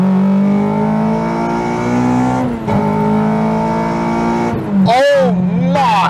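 Honda K24 engine in an Integra Type R revving, a loud, close, sustained high-pitched engine wail that holds, then dips and climbs through sharp blips near the end, with someone speaking over it.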